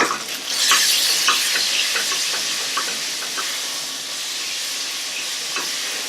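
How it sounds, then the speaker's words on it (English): Onions fry steadily in a pan on a lowered heat while a white wine cream sauce is being prepared, giving a continuous bright sizzle and hiss with occasional stirring scrapes, close and loud, with no talk. "As you can see, as we're cooking this, the amount of onions looks like it's getting to be less and less."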